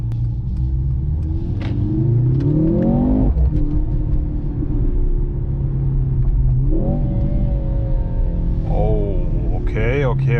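A 2023 Mercedes-AMG C43 with a four-cylinder engine accelerates on a night drive, a deep rumbling engine note swelling and climbing in pitch through gears, heard from inside the cabin while a person talks.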